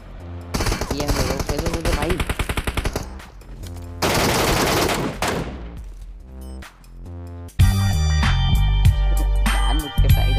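Machine gun fire in a battle royale mobile game comes in rapid loud bursts, with clustered automatic shots separated by short pauses, and some sustained firing near the end.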